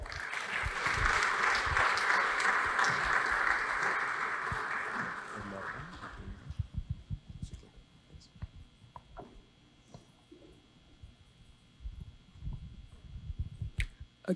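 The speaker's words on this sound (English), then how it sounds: "let's give him a round of applause" Audience applause at a Databricks Data+AI Summit talk in San Francisco fills the first six seconds, then fades into scattered claps, shuffling and room noise.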